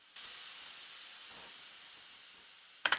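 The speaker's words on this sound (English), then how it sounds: "With just a pretty simple white noise whoosh effect that sounds like this" A plain white noise whoosh effect from a song breakdown, a steady broadband hiss that starts abruptly and holds for almost three seconds, fading slightly before a pair of short bright accents near the end.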